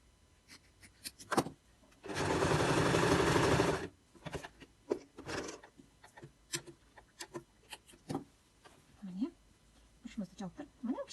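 A domestic sewing machine stitches patchwork quilt pieces in one loud, steady burst of close whirring lasting about two seconds, with someone talking before and after it.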